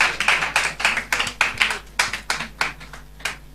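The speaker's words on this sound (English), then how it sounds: "So with a round of applause, shall we welcome Mr. Daniel Noe?" Scattered clapping from a small audience welcoming a tax policy official to a panel discussion on sanitary pad taxes and school attendance, with distinct individual claps in an uneven rhythm, fairly close.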